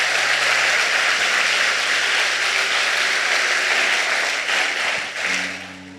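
A church congregation applauds together during a sermon, a full steady wash of clapping from many people that holds for several seconds before easing off, with organ or keyboard tones sustaining underneath.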